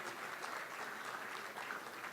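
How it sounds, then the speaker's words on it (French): Audience applause at a youth entrepreneur awards ceremony, a steady wash of many hands clapping at moderate distance, fairly soft and continuous without pause. "que je vous demande d'applaudir très fort"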